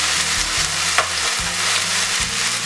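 Carrots and a mixture stir-frying in a pan for mi xao with chicken, a loud steady sizzle with a few stirring scrapes, close up and with no one speaking.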